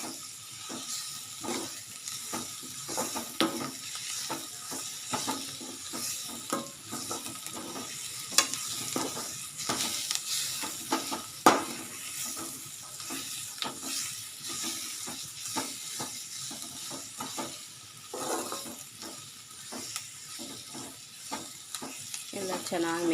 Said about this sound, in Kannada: ಇಂಗು ಹಾಕಿಬಿಟ್ಟು ಚೆನ್ನಾಗಿ ಮಿಕ್ಸ್ ಮಾಡ್ಕೊಂಬಿಡೋಣ ಫ್ರೆಂಡ್ಸ್